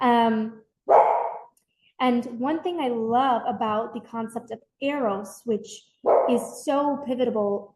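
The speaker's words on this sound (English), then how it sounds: "Sorry about the barking." A dog barks in short bursts in the background while a person keeps speaking over it.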